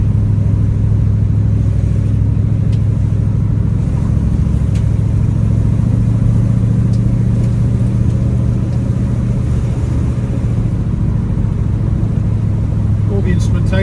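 A 1971 Ford Mustang coupe with a 302 V8 and automatic transmission, heard while driving: a steady, loud, low engine drone with road rumble, continuous throughout with no change in pace.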